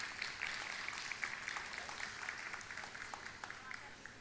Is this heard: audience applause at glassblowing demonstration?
yes